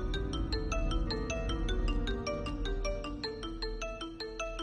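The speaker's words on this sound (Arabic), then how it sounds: "موبايل كنتنا بيضلوا بيرن" Mobile phone ringing with a repeating electronic ringtone melody, steady rhythmic tones over a low background rumble, fairly near and alone with no talk.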